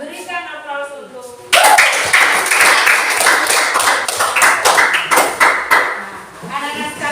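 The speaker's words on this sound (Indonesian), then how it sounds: "Berikan aplaus untuk" Students in a classroom break into applause, a dense burst of many hands clapping that starts suddenly after a teacher's voice, holds steady for several seconds, then fades as she resumes talking.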